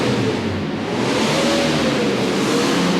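A car engine revs up and holds high RPM to warm the engine oil and automatic transmission fluid, a loud, close, sustained roar that swells slightly as it runs.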